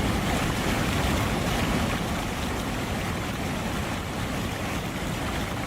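Iguazu Falls on the Brazil–Argentina–Paraguay border, a steady, dense roar of falling water filling the whole clip, broad and constant without any break or voices.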